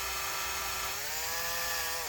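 A steady, high-pitched whine of a power drill with a 3/16-inch bit, working on a Mazda 323 GTX, runs continuously, its pitch dipping slightly midway as the bit works through material.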